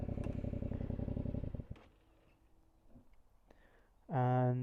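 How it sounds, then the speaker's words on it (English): A motorbike rolls to a stop under rear braking, its steady engine rumble dropping away into a quiet coast with faint clicks, before a loud, close harmonic tone rises at the end. "I'm just going to come to a nice stop with the rear brake."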